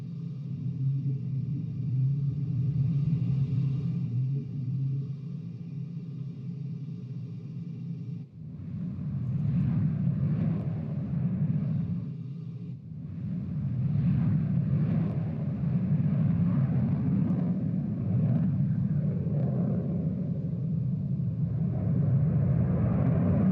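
An F-14B Tomcat in a flight simulator climbs with a loud, continuous low jet-engine roar and rumble, holding steady for over twenty seconds with a brief dip and shift in tone partway through.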